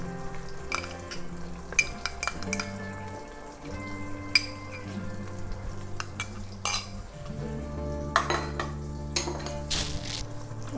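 Ginger garlic paste being stirred in a pan for lemon pepper chicken, a spoon scraping and clinking against the metal with a low sizzle underneath, sharp knocks scattered irregularly throughout, close and fairly quiet.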